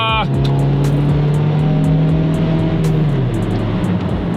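A Honda Civic fitted with a cheap eBay cat-back exhaust revs hard and accelerates, its loud, close, droning exhaust note holding steady and then dropping pitch as it pulls away.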